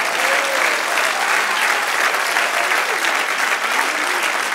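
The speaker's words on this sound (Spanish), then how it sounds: "Denle otro aplauso al Señor." A church congregation claps together in loud, sustained applause during a Spanish-language worship service, a dense, even roar of many hands that continues without pause.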